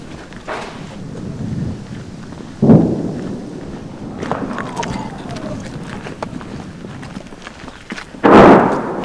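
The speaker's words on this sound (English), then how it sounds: "Above, a Russian barrage is the signal." Russian artillery barrage explosions in the war zone around Virnopillia, Donbas: a few heavy booms, one midway and a louder one near the end, with rumbling and faint voices and movement between.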